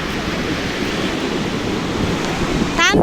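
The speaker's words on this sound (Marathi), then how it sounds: "लाटा उंच उंच उडत आहेत बघा" Ocean surf breaking on a beach makes a steady, loud broadband roar with gusty wind noise throughout, and a brief higher sound appears near the end.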